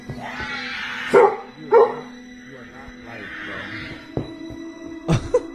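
A dog barks from a played video, with a few sharp yips and barks scattered over muffled background sound and a faint voice.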